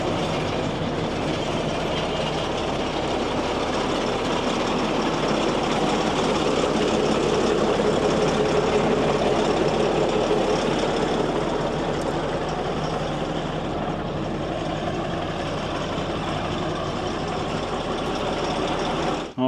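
A tracked tractor's engine runs continuously while it is loaded onto a trailer, a loud, steady mechanical drone with rattling and clanking throughout, close by and without speech.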